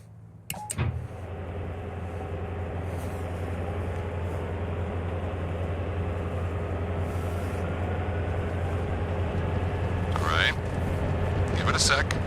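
A military helicopter in Arma Reforger spools up its engine, its rising turbine whine climbing slowly over a steady low drone after a few sharp clicks at the start, with brief clatters near the end.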